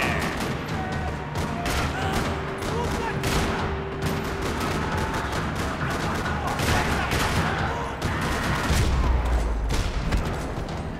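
Rapid bursts of gunfire in the video game Max Payne 3 crackle almost nonstop, with heavy booms mixed in and occasional shouted voices beneath the shooting.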